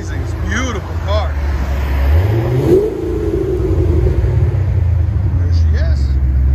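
A Pontiac GTO 6.0L V8 engine rumbles at idle and revs up briefly, a deep throaty roar through an aftermarket muffler that swells then settles back to a steady low drone.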